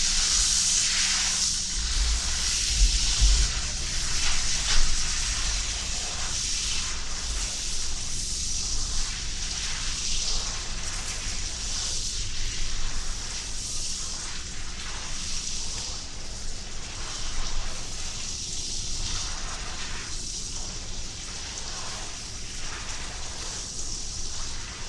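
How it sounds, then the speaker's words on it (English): Dinner sizzles on the stove, a steady, close hiss and crackle that runs continuously with slight rises and falls in loudness. "I'm in the middle of cooking dinner"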